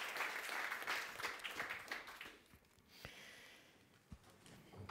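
Applause from an audience at a livestreamed event, a quiet, scattered clapping that thins out midway into a few isolated claps and small noises.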